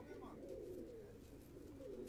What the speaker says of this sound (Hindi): ये कल्दू में कबूतर हैं, वेशी स्टाइल के कबूतर हैं ये थोड़े से।